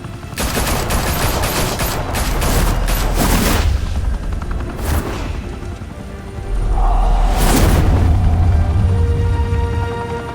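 Sustained gunfire from a shootout in the Batman Telltale game: dense volleys of loud shots crackle continuously, with heavy booms and whooshes swelling midway and again near the end.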